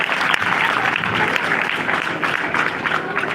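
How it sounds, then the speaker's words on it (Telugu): Audience applause at a church event, a crowd clapping together steadily with quiet voices mixed in, fairly close and full. "ఒకసారి చప్పట్లు కొడదామండి."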